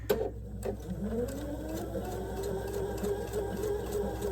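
Sewing machine stitching fabric for a heart garland, a steady close-up mechanical whir with fast rhythmic needle ticking throughout.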